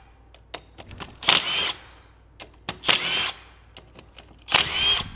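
A power tool spins out ATV engine case bolts during a repair, three loud whirring bursts separated by sharp clicks and clanks of parts being handled nearby, with no talking.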